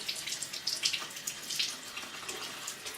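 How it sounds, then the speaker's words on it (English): Makeup brush rinsed under a running tap, water splattering and flowing unevenly as the bristles move through the stream, close and fairly loud, with no speech. "And then we'll rinse it. Make sure that no soap is left over."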